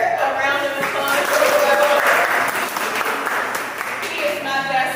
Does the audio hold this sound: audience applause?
yes